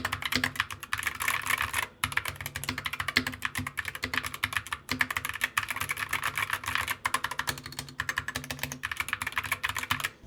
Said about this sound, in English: these keycaps are making the sound a little bit more tinny